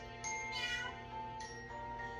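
A cat meow sound effect from a storybook projector plays faintly over a steady electronic hum, with two soft drawn-out mewing calls about a second apart.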